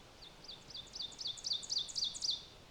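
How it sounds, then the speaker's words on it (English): Ovenbird warbler song in a provincial park woodland: a run of sharp, high two-part chirps repeated rapidly and growing louder toward the end, clear and fairly close over a quiet background. "This species was none other than the ovenbird."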